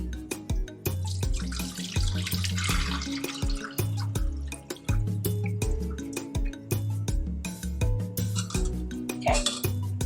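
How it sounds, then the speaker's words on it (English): Haitian hot chocolate being strained back into a pot, with a steady pour of liquid, repeated drips and light metallic clinks of utensils against the pot and strainer, close and continuous. "now I am going to strain this right back into the pot"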